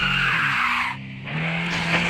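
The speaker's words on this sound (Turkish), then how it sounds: "Şuradan şimdi yanlayacağım." A car drifts and skids in the driving game Drive Zone: Germany, with a loud sustained tire squeal over engine roar that dips briefly mid-slide and then resumes, with no talk.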